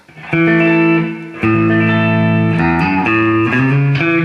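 Electric guitar played through an amp with its controls wide open, no effects and only the amp's reverb, strumming loud, full sustained chords up close with a brief dip between strums, no voices.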